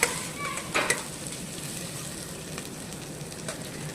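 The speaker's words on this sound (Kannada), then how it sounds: "ನೆಕ್ಸ್ಟ್ ಪುದೀನ ಸ್ವಲ್ಪ ಹಾಕ್ಕೊಳ್ಳಿ. ಚೆನ್ನಾಗಿ ಫ್ರೈ ಮಾಡ್ಕೊಳ್ಳಿ ಎಲ್ಲನೂ." Mint leaves frying in a pan for mutton sambar, a soft continuous sizzle with a couple of sharper stirring clinks near the start, fairly quiet and close.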